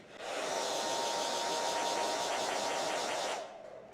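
A hair dryer blows with a steady, loud whooshing roar and a faint high whine, running for about three seconds before cutting off.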